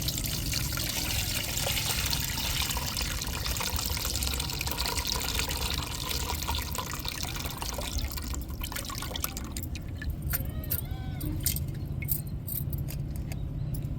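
Tamarind water is poured into a fish curry in a pot, splashing and trickling steadily up close, then thinning to scattered drips and small clinks toward the end.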